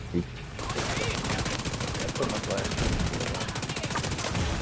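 MPX submachine gun in the Division 2 video game, a rapid sustained burst of automatic fire, loud and continuous for several seconds, with a player talking over it.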